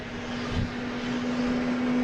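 Jet airliner landing on runway 27 at Boston Logan International Airport, a steady engine roar with a sustained tone, heard alone and fairly loud over about two seconds.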